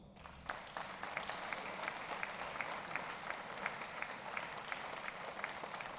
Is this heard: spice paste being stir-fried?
no